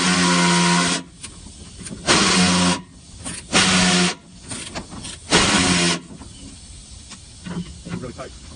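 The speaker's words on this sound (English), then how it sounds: "It's their, I think it's earthquake ratchet wrench. The impact ratchet wrench. Works really good." A Harbor Freight Earthquake pneumatic impact ratchet wrench working on a 1985 C10 gas tank and muffler, sending out four loud hissing, whirring bursts of about a second each between quieter clanking pauses.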